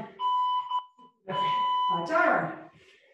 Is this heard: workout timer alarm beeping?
yes